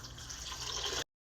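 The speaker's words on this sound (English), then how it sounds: "So we're gonna dump this in there to cook instead of water." Liquid pours steadily into an Instant Pot of Hoppin John, a faint continuous splashing stream that stops abruptly, followed by a moment of silence and a brief resumption.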